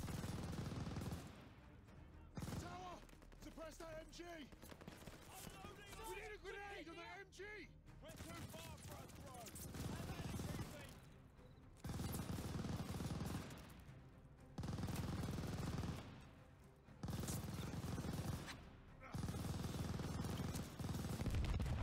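Enemy machine gun fire in the Call of Duty Vanguard war game, sustained bursts broken by brief pauses, loud and close over a dense battle mix with voices and music.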